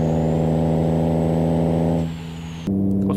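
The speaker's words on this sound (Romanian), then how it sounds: "Mamă, cât de bine sună motorul ăsta!" A 630 horsepower Volvo truck in a Euro Truck Simulator 2 mod accelerates with a loud, deep engine drone that dips briefly, then resumes with a sharp hiss like an air release.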